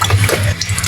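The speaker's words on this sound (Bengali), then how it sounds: "টকের জন্য আমি কড়াইতে তেল দিলাম" Cooking oil poured into a kadai (wok) to start a Bengali mourala fish tok, giving a brief, steady liquid pour that stays fairly even and close for under a second.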